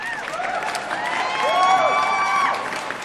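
A staged crowd in an audio drama cheers and applauds an interplanetary president, with whoops and rising, sweeping tones layered over a steady wash of clapping.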